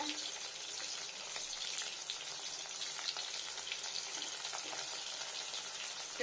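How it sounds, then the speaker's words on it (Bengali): Paneer fries in a pan with a soft, steady sizzle that carries on without a break. No one talks, and the crackle stays fairly faint throughout. "তো পনিরটাকে একটু ভেজে নিচ্ছি, একটু লবণ দিতে হবে।"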